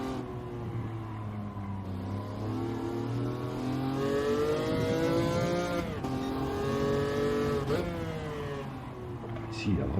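A race car in Gran Turismo 7 laps a track, its engine note rising and falling through revs and gear changes at steady, moderate volume, with someone talking over it.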